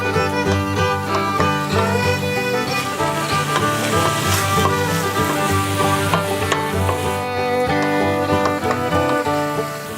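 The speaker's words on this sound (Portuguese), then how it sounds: "Dá aquela mexida para que o seu bacon ele encoste no fundo da panela e comece a dar essa dourada, comece a derreter a gordura dele" Bacon frying and being stirred in the bottom of a pan as its fat renders for a homemade sloppy joe, with a continuous close sizzle and scraping stirs, heard under steady music.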